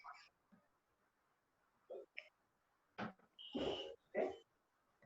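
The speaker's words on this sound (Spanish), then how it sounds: "el perro le ladra" A dog barks in a few short, separate bursts, close and moderately loud, with quiet gaps between them.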